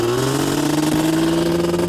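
Engine of a Grave Digger Yamaha Banshee ATV revving steadily at high pitch, loud and close, holding a sustained drone without talk.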